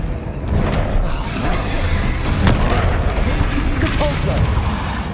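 A Confringo blasting spell in Hogwarts Legacy, heard as a dense, rumbling run of booming blasts and crashes with sharp cracks poking through, loud and continuous across the whole stretch with in-game voices mixed in.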